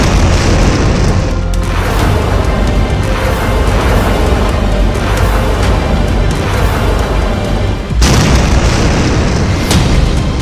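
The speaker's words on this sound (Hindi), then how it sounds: "जब ईरान की ये मिसाइल अपने टारगेट पर गिरती है तो धमाका ऐसा होता है।" An Iranian Fateh-110 missile explodes on hitting its target. It produces a loud, sustained rumbling boom with a dense roar, and a second sharp blast arrives near the end.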